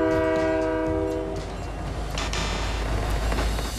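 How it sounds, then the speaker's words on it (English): In the video game Fortnite, a train horn sounds a sustained blast that cuts off partway through. A loud rumble of the rolling train and the clatter of its wheels continue underneath. "could we finally stop the train with this method?"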